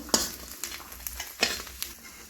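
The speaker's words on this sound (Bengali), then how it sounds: "এরপর সরষার তেল দিয়ে দেবো" Mustard oil sizzles softly in a frying pan during village-style cooking of a banana blossom dish, with a few sharp scrapes and taps over a low, quiet crackle.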